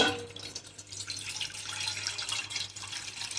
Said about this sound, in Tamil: இப்போ கேஸ் ஆன் பண்ணிவிட்டு தண்ணி ஊற்றிடுங்க